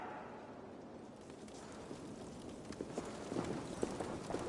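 A horse's hooves clip-clop steadily in the video game Assassin's Creed Valhalla. The hoofbeats grow clearer and more rhythmic toward the end, moderately close, over a soft background wash of wind or rain.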